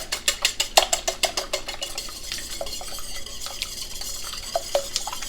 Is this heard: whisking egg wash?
yes